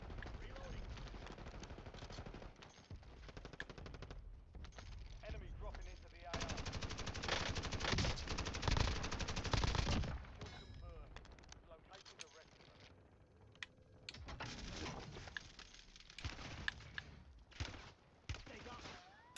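Sustained bursts of automatic gunfire from a battle royale shooter, dense rapid volleys with a loud continuous stretch mid-clip and scattered single shots, with game sound effects layered in and a voice speaking at times.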